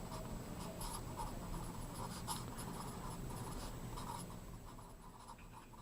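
A force diagram is drawn by hand with a pen scratching steadily over paper, a continuous close scribble of short strokes that eases off slightly at the end.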